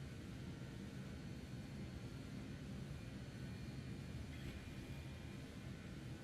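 A BAe 146 jet airliner in Microsoft Flight Simulator 2020 gives a steady, broadband engine roar just after gear retraction. It sounds like cockpit-level jet noise, continuous and even, with no talk over it.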